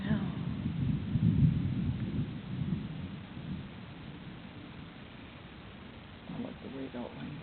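A thunderstorm with low rolling thunder rumbling at a distance, strongest early then fading into a soft steady wash, with faint voices murmuring near the end.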